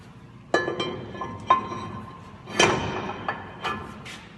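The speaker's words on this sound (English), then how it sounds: "Now install your brake rotor." A brake rotor is slid onto a Ford F-250/F-350 Super Duty 4x4 hub, producing several sharp metallic clinks and knocks spaced irregularly, close and fairly loud.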